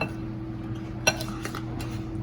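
A spoon mixing brownie batter with flour in a bowl, with a steady low hum throughout and a couple of soft clinks against the bowl.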